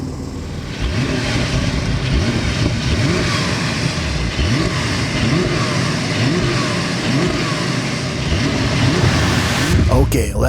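A Porsche 911 (992) engine revs in a series of quick rising blips over a steady loud drone, with faint voices underneath.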